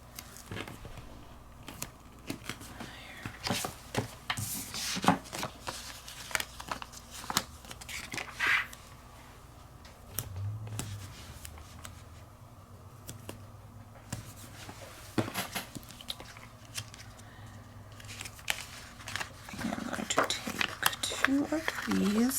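Scissors snipping paper pieces at a desk, a run of short crisp cuts and clicks with light handling and rustling of paper throughout, close and moderately loud.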